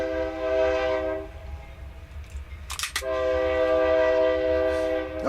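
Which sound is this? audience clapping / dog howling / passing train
passing train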